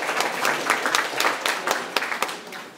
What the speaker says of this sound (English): Can we give a round of applause for the lady in the back?